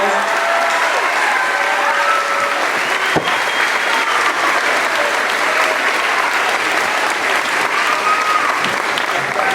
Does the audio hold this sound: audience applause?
yes